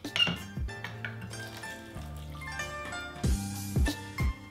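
Teaware clinks and water pours during the first rinse of ripe pu-erh tea stuffed in a mini lime, with ringing porcelain taps and low splashing thuds near the end, close and without speech.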